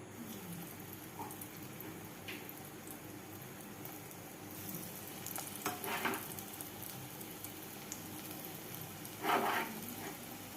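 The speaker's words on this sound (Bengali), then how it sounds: "তেলটা গরম হয়ে গেছে এখন একে একে এগুলো ছেড়ে দিই" Vegetable pakora fritters fry in hot oil over a low flame, a soft steady crackle and sizzle with a couple of louder bursts as pieces go in, faint and close.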